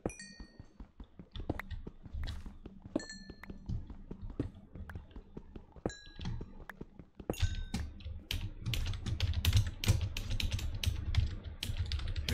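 Rapid clicks of a newly switched computer keyboard typed on during Minecraft play, running as a dense, steady patter close to the mic over soft game sounds, with the typing getting busier and louder in the second half.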